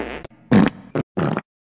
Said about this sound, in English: Farting on you.